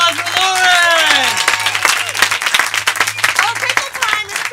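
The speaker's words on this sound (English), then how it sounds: "One more round of applause for Lauren." An audience claps for a performer after a comedy show. The clapping builds into a loud spatter of hands, with a voice speaking over it at the start.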